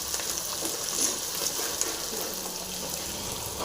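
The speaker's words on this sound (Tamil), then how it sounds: "இப்போ நல்லா ஃப்ரை ஆகிருக்கு வெங்காயம்." Onions fry in a pan with a constant hissing, spattering sizzle that runs evenly throughout and cuts off abruptly at the end, with no voices.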